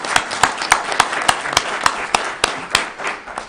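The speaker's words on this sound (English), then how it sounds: "So let's give her a round of applause" A single person clapping at a county meeting, with sharp, evenly spaced claps at a steady rhythm, close and fairly loud, rather than a full crowd.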